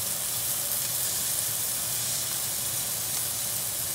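Grass-fed steak sizzling steadily in a hot pan, a continuous bright hiss of frying that stays even and close throughout with no voices over it.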